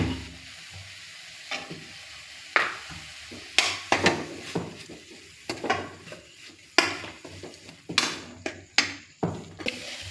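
A spice paste with curry leaves and turmeric frying in a pan for palak paneer, with a soft steady sizzle broken by repeated scraping stirs and clinks of a spoon against the metal pot, close by, no talking.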